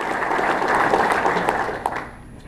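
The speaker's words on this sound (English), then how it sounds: "Let's give a round of applause." Applause for award winners at an emerging leaders award presentation, a dense wash of clapping from a crowd that holds steady and then thins toward the end.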